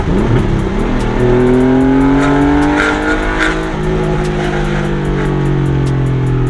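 A Porsche 964 accelerates hard on a public street, its engine note climbing steadily through the revs, loud and close, with a sustained rising howl and no talk over it.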